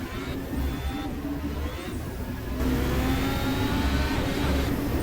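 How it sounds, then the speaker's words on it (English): An F1 car engine in the Assetto Corsa racing game revs with a steady, loud whining drone that swells and climbs in pitch partway through, with no talking. "as I rev up the engine once again"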